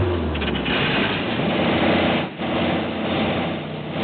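A car engine runs loudly and steadily as the car tries to pull away but will not move, a continuous rough drone with a short dip midway.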